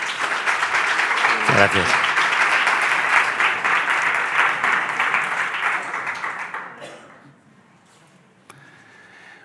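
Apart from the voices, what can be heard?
audience applause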